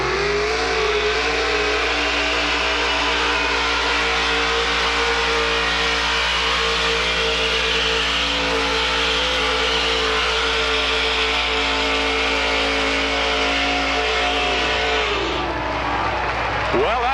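Alcohol-fuelled two-wheel-drive modified pulling truck revving hard and steady at an evening truck and tractor pull, a loud sustained engine roar with layered harmonics that drops off near the end, with an announcer talking over it.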